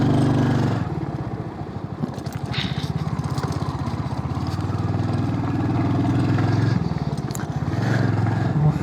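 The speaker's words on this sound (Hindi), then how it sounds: "अब दूसरा गियर डाल लो और आराम से ऊपर को चढ़ा दो ऐसे करके" A motorcycle climbing a hill road in second gear on the way to Bhadraj Temple, its engine holding a steady, loud, close chug with slight rises and dips in pitch.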